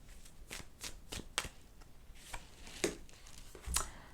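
Tarot cards shuffled by hand during a daily reading, a steady series of soft, quick riffles and card slaps, close but quiet, with no talking.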